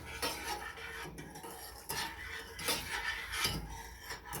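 A spoon scrapes and clinks rhythmically in a pot, stirring sugar until it dissolves into hot pickling brine for pickled beets, with soft repeated rubbing strokes close by and no voices.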